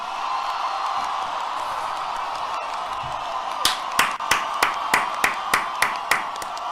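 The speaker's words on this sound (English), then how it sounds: "Freedom clap, freedom clap, freedom clap." A rhythmic run of single hand claps, evenly spaced and fairly close, starts partway through over a steady humming background on a livestream.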